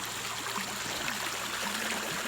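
Steady broadband rush of creek water flowing through an eroded channel toward the ocean, continuous and even throughout with no talk.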